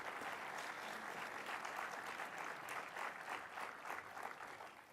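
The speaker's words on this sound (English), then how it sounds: "Let's give our panel out there another round of applause" An audience applauds a panel at a morning session, with steady, full clapping that fills the room for several seconds and tapers slightly at the end.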